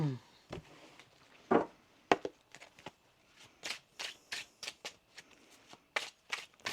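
Tarot cards being shuffled by hand in a quiet room, a series of soft, crisp riffling and flicking bursts in an irregular rhythm, close and fairly faint.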